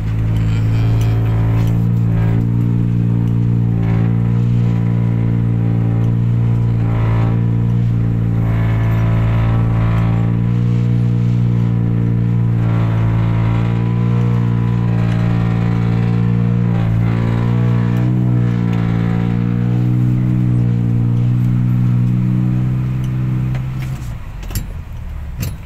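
Race cars accelerate from the start with a loud, sustained, throaty engine roar that climbs and holds for over twenty seconds before fading slightly at the end, with no talking.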